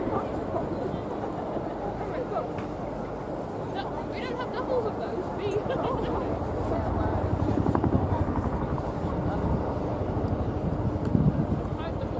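A Chinook twin-rotor helicopter climbing hard and rotating during an air show display, giving a loud, sustained rotor thump and engine roar that builds steadily, with a commentator speaking over it.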